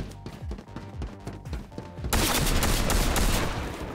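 Rapid gunfire in the video game Fortnite, shots punching through walls in a desert zone-wars match: a run of sharp bursts building into a dense, loud, sustained fusillade.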